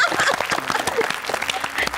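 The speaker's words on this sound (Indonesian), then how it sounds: "Oke, kita kasih tepuk tangan" Applause from a studio audience on a family-themed TV host show, a steady wash of clapping with some voices mixed in.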